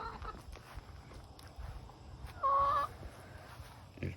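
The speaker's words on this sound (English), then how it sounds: "There's my chickens" Chickens cluck near a rural truck workshop, with one short loud squawk standing out midway over quiet background noise.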